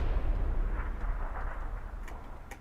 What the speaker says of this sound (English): He's still chucking grenades.